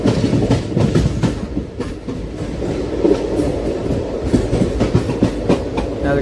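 The 12787 Nagarsol superfast express picking up speed past Kazipet, with a loud, steady rumble and rhythmic clickety-clack of wheels over rail joints heard from on board, near and continuous.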